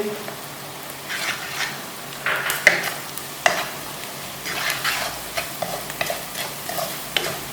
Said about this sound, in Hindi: बाद हम इसमें बेसन डाल देंगे।